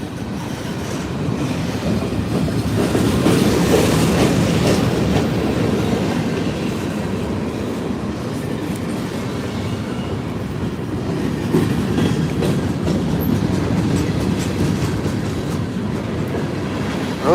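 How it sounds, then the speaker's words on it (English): An Amtrak GE Dash 9-44CW diesel locomotive passing: a loud, continuous rail rumble with clickety-clack wheel rhythm and faint squeal, sustained for over fifteen seconds with no talking. "Amtrak D9-44CW. Oh, listen to that GE whoop."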